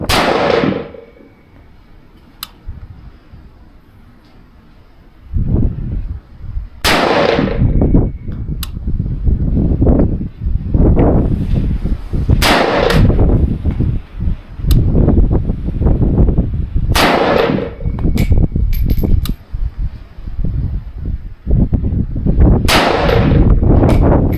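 Several loud gunshots from an SKS rifle fired at a range, each a sharp crack with a ringing tail, spaced a few seconds apart over a steady background hum.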